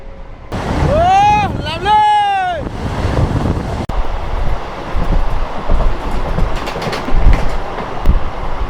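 A super fast express local train running from Bardhaman to Howrah, entering Kamarkundu, sounds two long, loud horn blasts, then a continuous heavy rumble and rattle of the moving carriages with wind noise.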